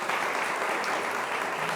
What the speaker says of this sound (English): Can we get a round of applause for both teams?